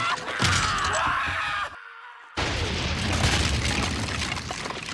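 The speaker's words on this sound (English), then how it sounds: "I didn't expect it to explode midair." A loud, roaring burst from a midair explosion in the film Army of Darkness fills the soundtrack, drops to a brief near-silence, then resumes as a dense rumbling wash.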